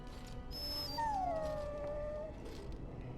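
In Dragon Age Origins, a dog lets out a drawn-out, falling whimper, like a plaintive whine that slides downward over about a second, fairly quiet over faint game ambience.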